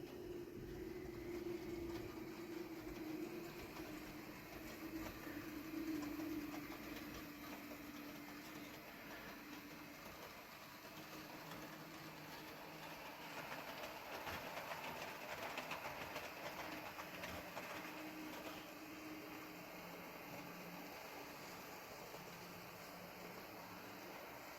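Model trains roll through a station on a railway layout, a quiet, steady clickety-clack and motor hum that runs continuously with slight swells as the trains pass.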